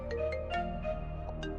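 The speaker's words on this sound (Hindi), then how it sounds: "उठा के देखती हूँ किसका फोन है।" A phone rings with a short repeating electronic tone during an indoor drama scene, partly buried under steady background music and fairly faint.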